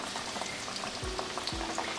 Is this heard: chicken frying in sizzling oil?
yes